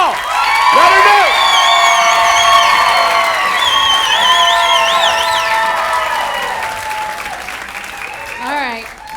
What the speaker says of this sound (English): A big round of applause for Andrea Paul.